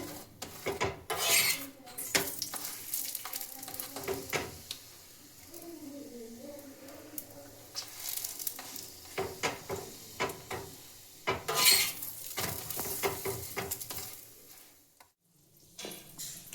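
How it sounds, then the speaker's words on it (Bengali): Paratha cooking on a tawa with white oil, giving soft sizzling and scraping rasps in irregular bursts, with low murmuring in the background. "এইভাবে পরোটাটা একটু একটু ফুলে উঠলে এভাবে এদিক থেকে সাদা তেল দিয়ে নিলাম"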